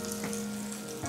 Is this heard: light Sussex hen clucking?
no